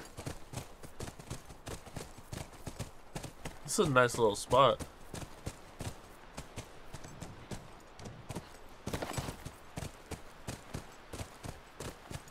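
A horse's hooves clip-clop in The Last of Us Remastered near a university ranch, a steady, quick run of light hoof beats throughout, with a person briefly talking over them.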